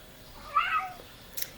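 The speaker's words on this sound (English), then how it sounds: "And that would be my cat." A house cat gives a single drawn-out meow, close and fairly clear, followed by a brief faint rustle.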